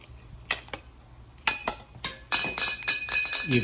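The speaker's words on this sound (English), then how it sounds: "you progressively tighten so that this blade bites in here" A pipe cutter works on a metal curtain-rod pipe, giving sharp metallic clicks and ringing scrapes that grow denser toward the end, close and fairly loud.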